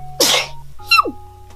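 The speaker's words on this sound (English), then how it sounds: "Sneeze completed." Two sneezes from a woman, each a sharp forceful burst, close and clear, with a brief pause between them and no talking.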